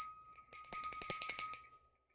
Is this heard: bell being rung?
yes